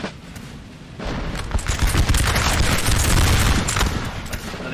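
Musket volley fire in a Napoleonic Total War 3 battle near Schöngrabern, a sustained rolling crackle of massed gunfire with deep booms beneath, building from a quieter start into a dense, continuous roar.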